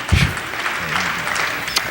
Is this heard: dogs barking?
no